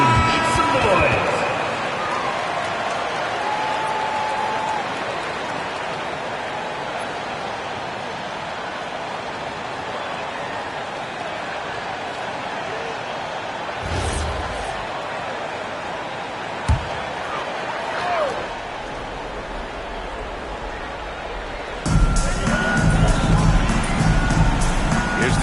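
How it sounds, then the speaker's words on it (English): A gym crowd gives a basketball team a sustained wash of cheering and applause, steady and moderately loud throughout, with a few thumps along the way and a sharper, brighter burst of noise near the end. "please give a big round of applause for your Ubanxt team"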